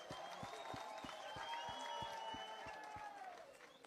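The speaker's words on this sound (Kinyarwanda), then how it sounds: "Niba mwishimiye ibi bintu mwese mureke dukomere Bosco n'umufasha w'amashyi." Wedding guests applaud at a celebration, a steady wash of clapping with a regular thumping beat underneath, holding at a moderate, slightly distant level before easing off at the end.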